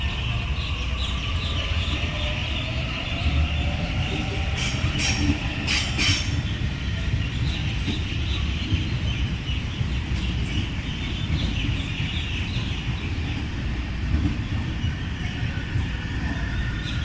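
A passenger train pulling out of Epping station on the London Underground during the afternoon peak, a steady loud rumble of wheels on rail with brief high metallic squeals early on and faint birdsong behind.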